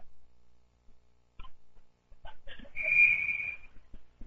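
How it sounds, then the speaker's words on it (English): A referee's whistle at a high school hockey playoff game, Moose Lake Area vs. Ely in Section 7A, sounds one sustained shrill blast midway through, over faint arena noise and thuds. "we get a whistle as Ely touches the puck"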